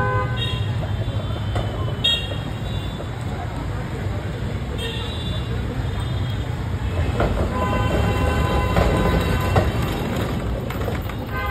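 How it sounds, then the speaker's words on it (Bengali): A toy train ride inside a shopping mall, with continuous rumbling wheels and clatter, a few short toots, and voices talking over the noise throughout. "ছেলে এখন অ্যাক্রোপলিস মলে এসে টয় ট্রেন চড়ছে।"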